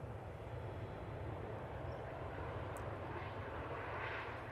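Ryanair airliner at Manchester Airport, a steady broadband engine roar holding level and fairly distant throughout, with no voices over it.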